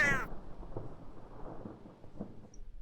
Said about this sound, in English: Oh jeez. Lightning strike.